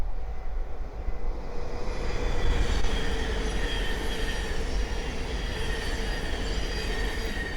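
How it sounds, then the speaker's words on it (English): A Thameslink Class 700 electric train runs past on the East Coast Main Line at Great Wymondley, bound from Cambridge to London King's Cross, giving a steady, loud rolling rumble with wheel noise that holds throughout and swells slightly midway. "the next train to pass by is a Thameslink 700 from Cambridge to London King's Cross"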